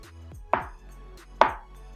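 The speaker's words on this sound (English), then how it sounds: "Now these I'm going to cut into 1-inch wedges or medallions." A kitchen knife cuts butternut squash trunk pieces into 1-inch wedges on a board, giving two sharp, close chops about a second apart, each with a brief crunchy ring-off over quiet room tone.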